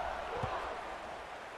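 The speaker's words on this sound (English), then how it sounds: "this crowd is buzzing after that last score" A stadium crowd buzzes at a college football game as a steady, dense murmur of many voices with no break, with one brief thump partway through.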